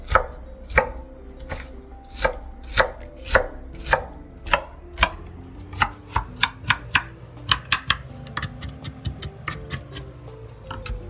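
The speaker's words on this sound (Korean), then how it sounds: "양파는 이렇게 썰어 두시고 한쪽에 담아 두겠습니다." Onion is chopped with a knife on a cutting board in crisp, rhythmic strokes, slow and evenly spaced at first, then quicker and lighter.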